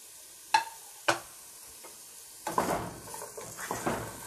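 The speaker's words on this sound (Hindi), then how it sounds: "शिमला मिर्च को भी 20 सेकंड तक फ्राई करेंगे।" Capsicum tossed into a hot pan for chow mein, with two sharp clinks of a utensil on the pan followed by a soft, steady sizzle and stirring scrapes, close and moderately loud, no talking.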